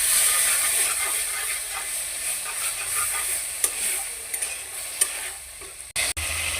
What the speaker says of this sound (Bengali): নাড়তে থাকবো।